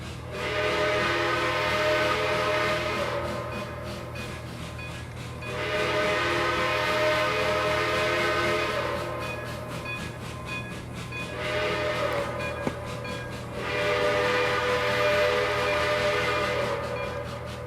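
A K&L Trainz model train rumbles steadily along while a whistle sounds in several long repeated blasts, close and without talk.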